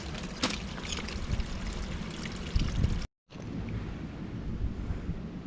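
Water running steadily from a drinking water spring on a mountain valley path, a continuous close splash and trickle with a brief cut partway through.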